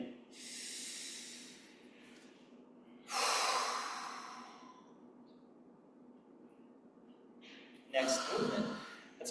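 Audible breaths during a Ba Duan Jin mindful movement exercise, with three broad, airy exhale-like bursts, each lasting a second or more, spaced apart over a quiet background. They sound close and moderately loud.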